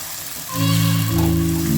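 Olive oil begins sizzling loudly in a pan, a steady close frying hiss that starts abruptly and holds, with a faint tonal hum underneath and no talking.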